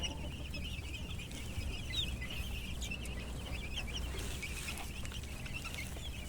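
Boston Sweater Roundhead chickens and chicks cluck and peep softly on an outdoor range, with scattered calls that are fairly faint against a low, constant background murmur.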